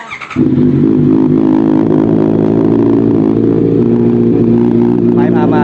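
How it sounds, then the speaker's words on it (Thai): A 2019 Honda CBR650R starts with a brief crank and then holds a loud, steady, close idle that rises slightly in revs, while someone speaks faintly at the start. "ขออนุญาตสตาร์ทนะครับผม"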